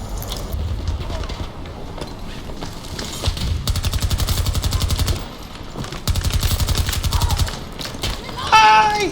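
Rapid automatic gunfire bursts in Battlefield 2042, two sustained volleys of close, rhythmic shots amid game sound, with a voice speaking in between.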